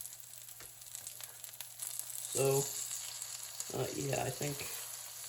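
A quesadilla frying in a pan gives a steady, soft hiss and sizzle throughout, with someone briefly talking over it partway through.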